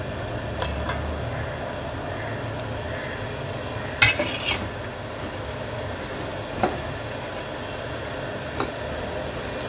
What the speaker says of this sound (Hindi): बर्तन को अच्छे से साफ़ कर लें।